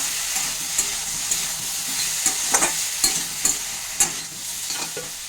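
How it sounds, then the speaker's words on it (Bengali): Winter vegetables and fenugreek leaves are stirred and tossed in a hot pan. A continuous sizzle runs underneath, and a spatula scrapes and knocks in a loose, repeated rhythm. "ঢাকনাটা তুলে দিয়ে আমি এটাকে ভালো করে নেড়ে ফেড়ে দিচ্ছি"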